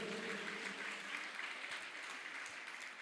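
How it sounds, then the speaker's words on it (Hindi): Thin, scattered clapping from an audience at a Guru Purnima religious gathering, faint and distant with a roomy wash and no distinct individual claps. "तालियां आपकी बहुत कमजोर हैं।"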